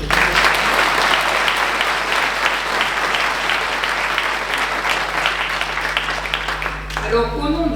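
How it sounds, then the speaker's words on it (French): A large audience at a town New Year's greetings ceremony in Viviers applauds in a sustained, even roar of clapping for several seconds, over a steady low hum, before fading as a voice starts speaking at the end. "on peut encore les applaudir."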